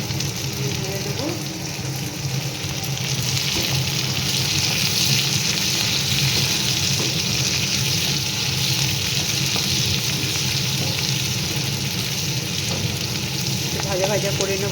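Chicken frying in a pan with capsicum and three green chillies for chilli chicken, a dense continuous sizzle and crackle throughout, close and loud, with faint low kitchen sounds beneath.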